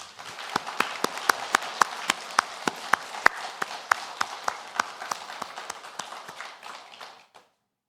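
A church congregation at a Sunday service in Korea claps together in a steady, even rhythm, loud and close, keeping time for several seconds before stopping abruptly.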